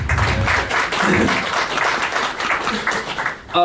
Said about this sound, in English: Round of applause for Ben, everyone.